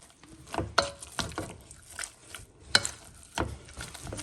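Cooked, smashed potato with butter and milk is mixed in a bowl, giving soft, irregular squelching and scraping strokes in short bursts, close and fairly quiet.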